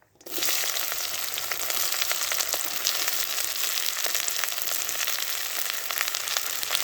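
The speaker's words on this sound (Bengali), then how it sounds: "সর্ষের তেল দিয়ে দিলাম, গোটা গরম মশলা দিয়ে দিলাম, পেঁয়াজ কুচিটা দিয়ে দেবো" Chopped onion and whole garam masala sizzle in mustard oil, a steady, dense hiss of frying that starts abruptly and holds even and close throughout, with faint crackles and no voices.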